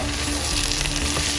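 Kerala-style spicy beef frying in a pan, a steady, loud, continuous sizzle with faint stirring textures, heard close and alone.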